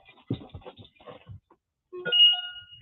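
A phone notification ringtone chimes once after a short stretch of quiet talk, a brief bright tonal ring that sounds close and clear.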